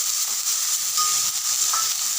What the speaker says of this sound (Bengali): দিয়ে দিচ্ছি বেগুনগুলোকে আমি লাল করে ভাজবো।